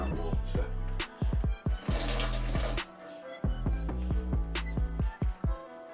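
Water gushes and splashes from a tap into a sink in a series of short bursts, close and fairly loud.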